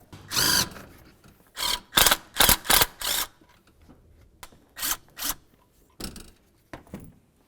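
A ratchet loosens the 13mm mounting bolts on the thermostat housing of a 2009-2018 Ram 1500 during a water pump job. Loud, close, sharp bursts of rapid clicking come in short groups, separated by brief quiet pauses.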